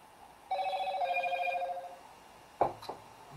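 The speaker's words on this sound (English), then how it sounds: "That's the phone." A telephone rings in a quiet room, one trilling burst lasting over a second, followed by a loud click or handset clatter.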